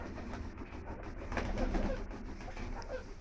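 Pet pigeons coo steadily indoors while being fed, a soft continuous murmur of several birds close by, slightly louder midway, with no talking.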